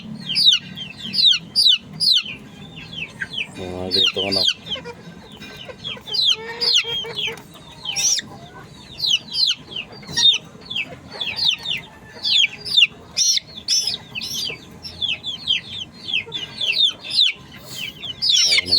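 A flock of backyard chickens clucks close by in a steady, overlapping stream of short, busy calls, with a few louder squawks scattered through and little else beneath.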